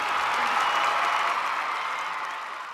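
Dense, steady audience applause on a televised children's singing competition grand finale, a full studio crowd clapping continuously and loudly, easing slightly toward the end.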